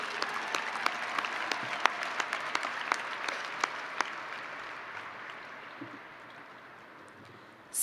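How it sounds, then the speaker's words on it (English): At a high school graduation ceremony, an audience applauds graduating students with a burst of crowd clapping that gradually thins and fades toward the end. "Please applaud these students for their involvement in CTE."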